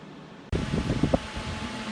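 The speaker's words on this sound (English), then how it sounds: "Sorry for the fan noise." An electric fan suddenly switches on and keeps running with a steady broadband whoosh and faint rattling, close to the listener.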